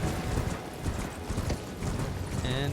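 Horse hooves clip-clop in a steady rhythm while riding through the open world in the Elden Ring video game, loud and close, with a brief whinny-like tone near the end.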